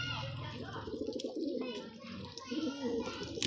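Pigeons coo softly at a pigeon-keeping setup in Sargodha, with low throaty warbles under steady nearby talking.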